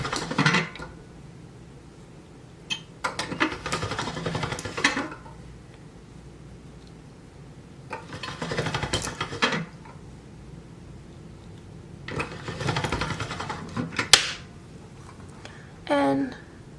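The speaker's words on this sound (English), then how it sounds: "both sides are becoming smoother with each pass through the pasta machine." Polymer clay is cranked through a hand pasta machine in several separate passes, each a short burst of soft grinding, squishing rolls with quiet gaps between them.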